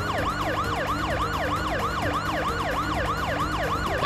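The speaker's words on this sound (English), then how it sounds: "Sirens blaring." Police car sirens wail in a Parasite Eve video game cutscene, a loud steady rising-and-falling pattern repeating quickly and continuously, with no talk.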